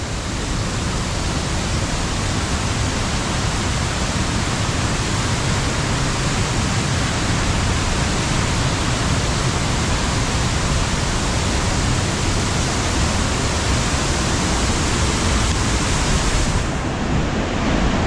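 A rushing mountain torrent on the Madhyamaheshwar trek in Uttarakhand roars as a loud, steady, broadband wash of water that holds at full force throughout, with no voices.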